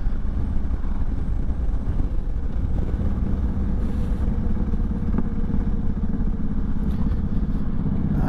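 A Honda motorcycle on an early-season ride gives a steady, loud engine drone with rumbling road and wind noise throughout, continuous and without pauses or talk.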